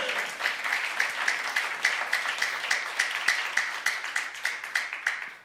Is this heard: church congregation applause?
yes